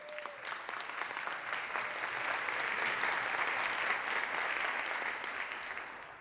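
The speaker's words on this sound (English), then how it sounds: "let us give our champions a round of applause" An audience in the Illinois House applauds the WNBA champion Chicago Sky, a steady wash of clapping that swells and holds for around six seconds, fairly distant and without talk.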